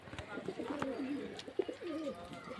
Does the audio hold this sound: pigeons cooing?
yes